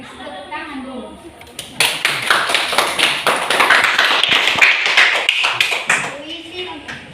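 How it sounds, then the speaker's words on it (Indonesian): Classroom applause for a student about to read a poem, a dense burst of many children clapping that swells after a short stretch of talk, holds for several seconds, then fades as speech resumes. "Tepuk tangan dulu."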